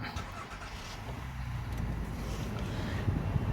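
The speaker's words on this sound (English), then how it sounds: "when I fire the vehicle up" A 2016 Honda Pilot EX engine fires up nearby, a short crank rising into a low steady idle hum with faint background noise and no talking.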